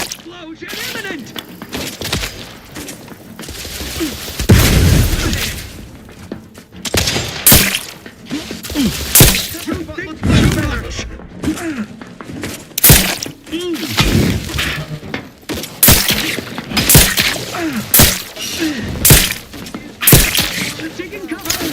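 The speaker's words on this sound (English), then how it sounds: "Explosion imminent!" Explosions and gunfire in the video game The Outer Worlds 2, repeated sharp cracks and booming blasts in rapid bursts, mixed with character voices talking.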